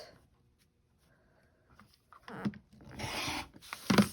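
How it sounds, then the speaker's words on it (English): A rotary cutter rasps through quilting fabric along a ruler from corner to corner, a close, scratchy slicing sound that starts after a quiet pause and runs for about two seconds. "So you will just set your ruler on top, corner to corner, and rotary cut right across."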